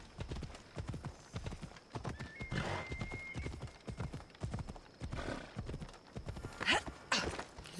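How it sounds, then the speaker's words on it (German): Horses in the video game Assassin's Creed Odyssey clip-clop with steady hoofbeats, and a whinny rings out near the end, the game sounds moderately close and clear with little talk. "Wieso stehen manchmal Pferde hier rum?"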